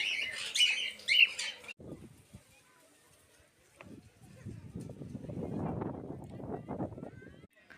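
Birds at a bird park chirp and squawk sharply for the first couple of seconds, loud and close, then give way to people talking.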